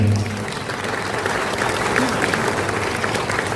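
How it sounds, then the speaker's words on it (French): Steady applause from a crowd, continuous clapping that fills the space without pause. "applaudissez à Manjola"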